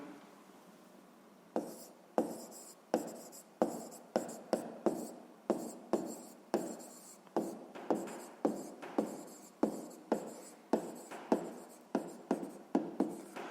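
Pen or pencil writing by hand on paper, working out a greatest common divisor for a sixth-grade maths exercise: a steady run of short scratchy strokes, close and fairly quiet, starting after a brief pause and continuing in a regular rhythm, with no talking.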